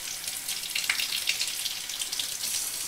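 Hot tap water runs steadily over tomatoes during preserving, a soft, continuous hiss and splash close by with no talking.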